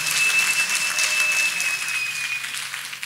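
Dense clapping from a group fills the clip, bright and continuous, with a faint steady whistle-like tone running through it.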